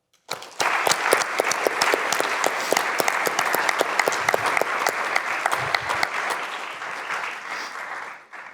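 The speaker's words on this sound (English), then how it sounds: "Please join me in a round of applause in appreciation for Sister Cutler." A large audience at BYU bursts into loud, sustained applause for Sister Cutler, dense clapping that runs steadily for about eight seconds before tapering at the end.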